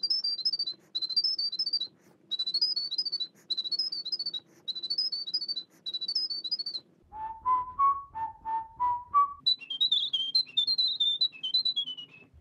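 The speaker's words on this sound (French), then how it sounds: "un ensemble de chiffres qui correspondent au fait de siffler au clair de la lune" Whistled melody of Au clair de la lune played back sped up, a run of bright, quick pitched phrases in short repeated groups, alone with no voices.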